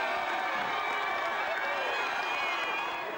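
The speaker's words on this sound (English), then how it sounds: "thousands of fans packed Federation Square to celebrate with the players" Thousands of football fans in Melbourne's Federation Square roar and cheer continuously at Geelong's premiership celebration, a dense wash of voices and noise at close range.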